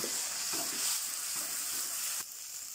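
Ground garlic and ginger paste sizzles steadily in hot oil with curry leaves while cooking a crab gravy, with soft stirring clinks and scrapes over a continuous close frying hiss.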